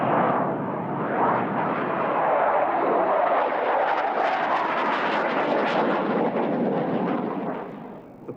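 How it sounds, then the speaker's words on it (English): A Russian jet performs a tail slide at an air show, its engine roar broad and steady for several seconds, then easing slightly toward the end, heard alone with no voices. "here's the Russian aircraft trademark, the tail slide"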